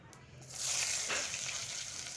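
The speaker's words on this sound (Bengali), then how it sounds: "সেই তেলে গোটা জিরে ফোড়ন দিয়ে দিলাম, একদম মশলা ছাড়া" Whole cumin seeds sizzle in hot oil left over from frying small puti fish. The crackle comes close and steady, with a brief hiss building early and then sustained sizzling throughout, and no voice over it.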